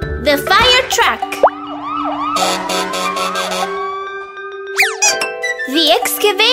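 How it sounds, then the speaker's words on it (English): A cartoon fire truck siren wails in loud sweeping tones, close and bright, set against playful music, springy sound effects and a voice speaking briefly. "The fire truck!"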